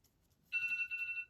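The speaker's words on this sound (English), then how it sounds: "That's my alarm" A phone alarm rings in steady repeating electronic tones, fairly quiet, starting partway through after near silence, with no talking.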